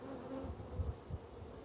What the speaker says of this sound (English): Oh, hang on, I got a bee in my hair.